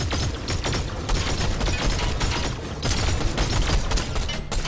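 Video game gunfire sounds in dense, rapid bursts of shots and booms that run continuously and loud throughout, with no talk.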